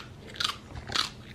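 A dog crunches a hard treat in two distinct, sharp bites about half a second apart, close but fairly quiet, with no talk over them.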